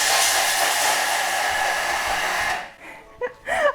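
A kitchen appliance pulverizing chocolate roars loudly and steadily with broad noisy whir, then cuts off abruptly, followed by scattered faint clatter and brief voice sounds.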